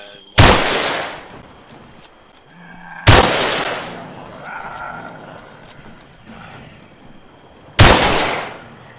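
Gunshots ring out in the video game Arma 3, three loud, distant-sounding reports with long decaying echoes, spaced several seconds apart over faint ambient game noise.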